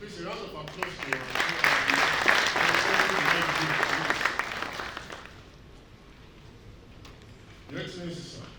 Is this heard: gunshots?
no